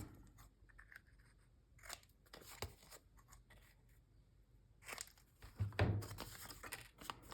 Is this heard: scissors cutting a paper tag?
yes